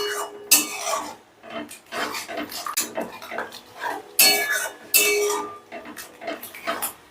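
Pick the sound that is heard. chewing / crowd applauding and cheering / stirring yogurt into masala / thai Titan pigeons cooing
stirring yogurt into masala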